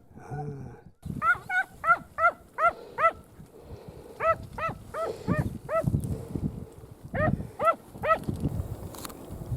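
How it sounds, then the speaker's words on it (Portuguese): Podengo hunting dogs bark during a rabbit hunt in several rapid bursts of high, yelping barks, four to five in a row, repeated three times at mid distance, with rustling and footsteps between. "Quando o cão ladrou, ele largou."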